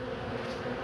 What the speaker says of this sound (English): Lots of bees though.